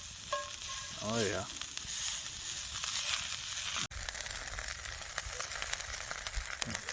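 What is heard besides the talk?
beaver tail frying in hot oil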